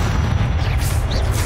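A Confringo spell explosion in Hogwarts Legacy comes through as a dull, rumbling boom, sustained and muffled rather than sharp, close and fairly loud.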